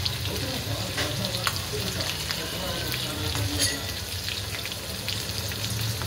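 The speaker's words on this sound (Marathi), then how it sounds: "लसूण पूर्ण फ्राय करून घेऊया।" Garlic and green chili frying in hot oil in a pan: a dense, even sizzle holds close and loud throughout, with light crackle and no talk.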